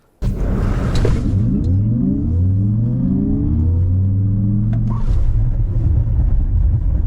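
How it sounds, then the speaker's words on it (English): An electric car accelerating hard from 0 to 100 km/h in about three seconds, a rising whine sweeping upward in pitch over a heavy low rumble, loud and close, with a brief whoosh near the end and no voices. "This dangerous EV car can go from 0 to 100 kilometer in just 3 seconds."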